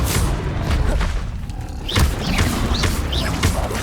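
A Confringo blasting spell in Hogwarts Legacy bursts into dull, booming thumps amid loud, dense magical combat noise, with shimmering swooshes layered throughout.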